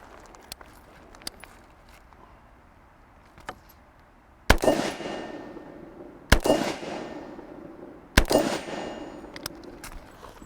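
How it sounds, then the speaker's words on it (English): Three sharp rifle shots from a shooter in a modified prone position, spaced about two seconds apart, each a loud crack with a ringing decay, over quiet outdoor background with faint small clicks beforehand. "why don't we go ahead and live fire"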